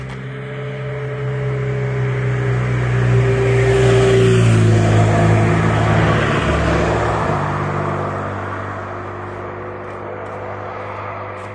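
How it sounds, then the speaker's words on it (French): A single car drives past on a country road, approaching gradually, swelling to a loud engine-and-tyre roar around the middle, then fading away as it moves off, with no talking. "Première voiture."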